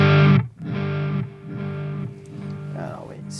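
Electric guitar played through a Neunaber Expanse pedal on its standard delay setting, several sustained chords repeated with echoing repeats trailing between them, fairly loud and clean, with a brief voice near the end.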